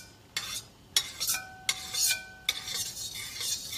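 A metal spatula stirs garlic in hot oil in a wok for fried rice, giving four or five sharp scraping clinks against the pan over a faint sizzle, close by and with no talking.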